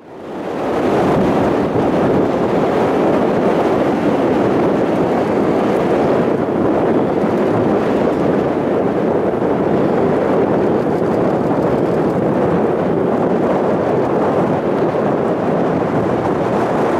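Strong gusty wind blows at Calgary International Airport in southern Alberta, a loud, constant broadband roar buffeting the microphone for the whole stretch with no voices.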